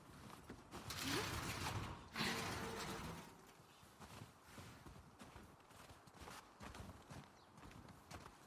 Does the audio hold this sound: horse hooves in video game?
yes